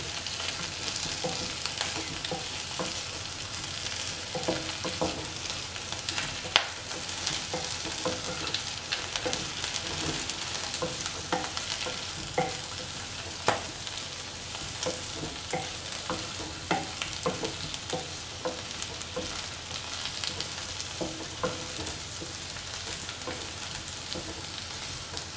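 Chilli taro root (colocasia) frying and being stirred in a pan, a steady broadband sizzle with scattered scraping clicks of the spoon, continuous and fairly close throughout with no talking.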